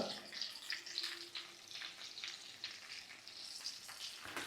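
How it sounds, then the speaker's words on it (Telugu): Masala-stuffed okra fries in oil in a pan on a low flame with a continuous crackling sizzle. Soft spatters rise and fall throughout, and a few turning scrapes come through near the end. "ఇలా కాల్చుకోవడం వల్ల లోపల ఉన్న మసాలా అంతా బెండకాయ మొత్తానికి పట్టి ఆయిల్లో మంచిగా ఫ్రై అయ్యి"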